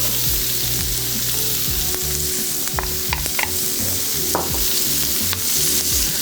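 Onions sizzling steadily in a hot pan as the first step of braised beef short ribs, a continuous loud frying hiss with occasional stirring scrapes and no talking.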